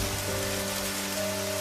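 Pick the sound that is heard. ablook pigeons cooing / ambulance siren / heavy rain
heavy rain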